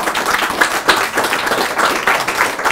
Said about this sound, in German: frenetischer Applaus für Tim Renner